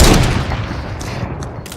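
A sniper rifle shot fires in Fortnite, a loud sharp crack at the start with a decaying tail, followed by faint shuffling game noise.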